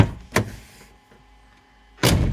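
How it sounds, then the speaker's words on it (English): A car door on a Subaru Brumby converted to electric power: two sharp, close thuds about 1.7 seconds apart, the first a quick clunk and the second a heavier shut, with near silence between. "Door."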